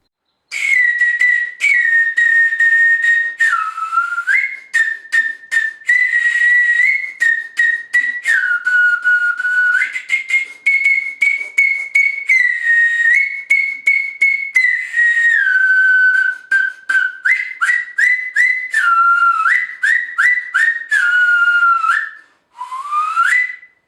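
A pre-Hispanic Comechingón clay whistle played in a long run of clear, loud, piercing tones, held notes that step between pitches and break into short chirping bursts as the angle at the lips changes.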